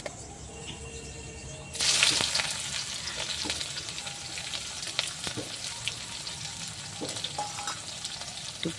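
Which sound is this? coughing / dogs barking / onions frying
onions frying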